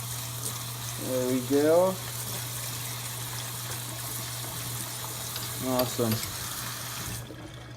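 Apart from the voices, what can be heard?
tap water rinsing out pasta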